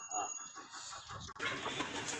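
Chickens clucking in a busy, noisy farmyard, with a steady rustle and hiss underneath and a brief drop before the noise swells again.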